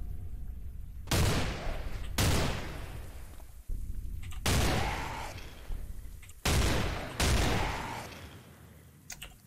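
Gunfire in the survival game Cataclysm DDA: six loud, booming shots fired one at a time at irregular intervals, each ringing out and fading slowly before the next.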